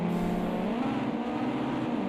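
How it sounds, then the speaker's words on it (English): A race car engine in Project CARS 2 labouring through a tight hairpin, a loud close droning note that wavers and climbs unevenly as the revs hunt, steady throughout with no talking. "that's Jay Daniels struggling to get the revs right through the Melbourne hairpin by the sound of it"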